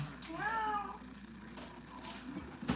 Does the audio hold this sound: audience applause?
no